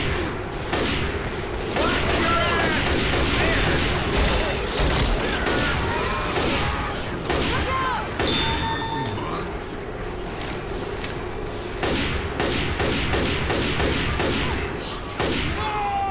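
Rapid bursts of gunfire in the video game Left 4 Dead 2, repeated sharp shots cracking over a dense, busy game backdrop, with players talking over the action.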